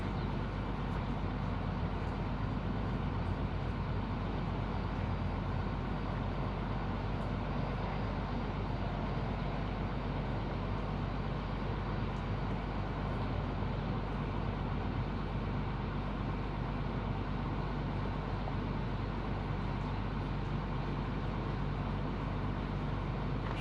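A school bus diesel engine holding a steady high idle on a cold winter afternoon, a loud continuous rumble and drone that stays unchanged throughout with no talking.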